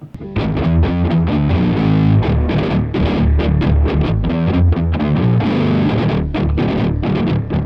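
Several pitched-down, heavily distorted electric guitar riffs are layered and play together at once, forming a loud, dense, chugging wall of rhythmic chords that stays continuous for several seconds without any voice.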